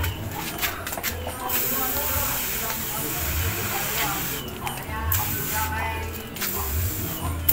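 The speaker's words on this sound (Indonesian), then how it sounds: "terus diksonya ya harus ya kita semprot juga dari bawah biasa" A pressure sprayer mists fungicide onto grape vines and their berries with a steady, close hiss that stops briefly a few times, while someone talks over it.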